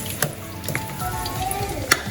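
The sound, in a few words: mixing chicken lollipop ingredients in a pan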